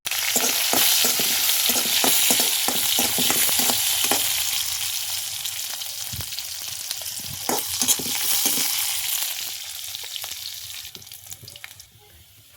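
Panch phoron, onion, bay leaf and dry chili fry in hot oil with a dense, loud sizzle and crackle, punctuated by scraping stir strokes, gradually quieting toward the end.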